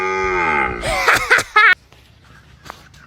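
A cow gives one long, drawn-out, loud moo up close, followed by a few short, sharp vocal bursts, then near silence.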